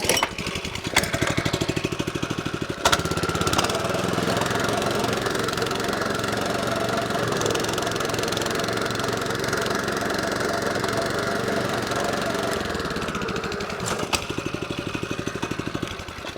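Cayman LS42 petrol lawn scarifier engine running while removing thatch from a lawn: a loud, continuous mid-pitched engine drone with rough knocking, heard up close throughout without talk.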